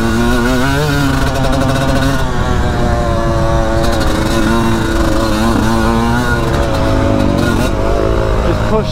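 Yamaha YZ125 two-stroke dirt bike engine revving loud and close throughout as laps are ridden, pitch rising and falling with throttle changes in a continuous buzzing whine.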